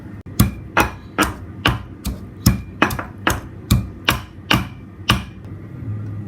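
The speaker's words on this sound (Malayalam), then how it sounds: "2 കാന്താരി മുളക് എടുക്കും, കുറച്ച് ചെറിയ ഉള്ളിയും ഇട്ടിട്ട് നമുക്കൊന്ന് അതിനെ ചതച്ചെടുക്കാം." Two bird's eye chilies and small shallots being crushed, around a dozen sharp, evenly spaced pounding strikes close up, each a crisp thud with a brief ring.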